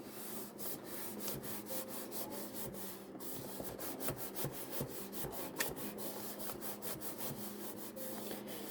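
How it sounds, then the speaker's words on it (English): Excess paper is torn off the top and bottom of a handmade entomology journal page in a quick series of close, scratchy ripping strokes at a steady, busy rhythm, with no talk. "And then I'll rip the excess on both the top and bottom."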